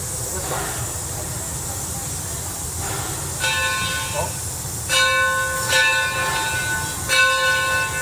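A Mason Bogie steam locomotive rumbles along the rails with steady hissing noise, and a ringing bell-like whistle tone sounds several times over the constant roar.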